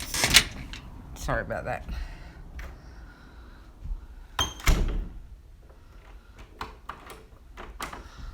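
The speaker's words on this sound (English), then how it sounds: "Oh, no, I can't lock the door." A front door lock is jiggled and worked, giving scattered clicks and a couple of sharp thunks against quiet room tone, while a person speaks briefly.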